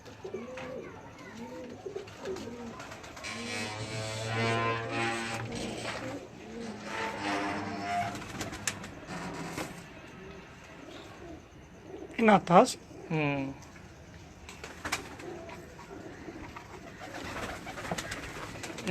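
Breeder pigeons coo in soft repeated rolling bursts close by, mixed with someone talking over them and a few sharper flutters and calls partway through.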